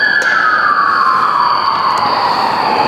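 An ambulance siren wails loudly and steadily outside, its pitch sliding gradually downward as it passes, with no voices over it.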